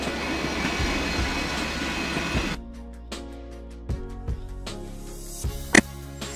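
A passenger train rolls past with a steady rumble, then thins to clacking wheels over rail joints and a few sharp metallic knocks, with no voices.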